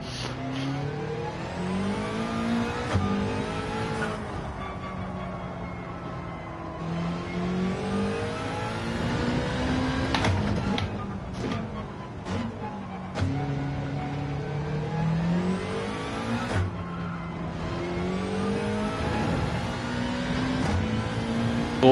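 A race car engine in Gran Turismo 7 revs hard through the gears, its pitch climbing steadily and dropping at each shift. The pattern repeats several times across the run, with a few sharp clicks between pulls and no voices.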